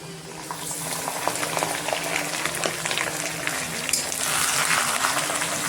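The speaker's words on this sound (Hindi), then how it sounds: "चिकन को मैं 5 मिनट फ्राई कर लेंगे।" Chicken fries in a pot with bay leaves and cinnamon, a steady close sizzle with bubbling and a few stirring clinks, no talking.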